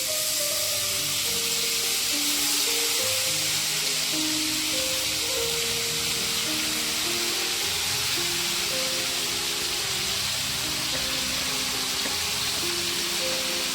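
Bele fish frying in oil in a pan, a steady, dense sizzle throughout with no talking.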